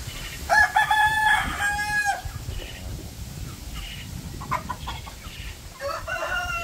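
A rooster crows loudly twice up close, followed by scattered clucking and softer calls from other chickens, including Rhode Island Reds, in a poultry yard.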